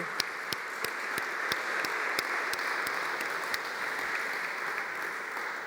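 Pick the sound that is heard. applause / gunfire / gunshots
applause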